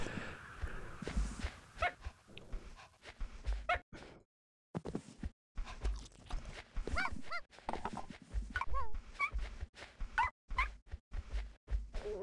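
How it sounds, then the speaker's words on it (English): Small virtual dogs in the Petz 5 computer game yip, whimper and let out little growls in short repeated bursts, fairly close, broken by brief silent gaps and soft stepping sounds. "The stupid little growls they make."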